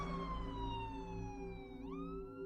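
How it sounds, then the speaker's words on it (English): An ambulance siren wails as the vehicle speeds down a road, a loud sweeping tone that slides steadily downward before jumping back up, heard alone. "they were flying down the road with their sirens blaring"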